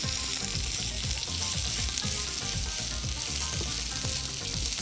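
Sliced red onion fries with cumin in hot oil, a loud, dense sizzle that holds steadily throughout, with a pulsing low rumble underneath.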